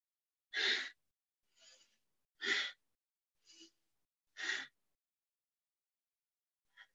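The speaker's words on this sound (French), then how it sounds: "Tu peux déjà engager la respiration Ujjayi. Respiration au niveau de la gorge." Slow Ujjayi throat breathing during a yoga flow: long, hissing, throaty exhales alternating with softer inhales, close and isolated in a quiet room.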